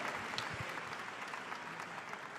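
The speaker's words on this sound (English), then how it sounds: "Let's have another round of applause for Zara, ladies and gentlemen." An audience at the 68th GRAMMY Awards Premiere Ceremony claps in dense, steady applause that fills the hall at an even level without a break.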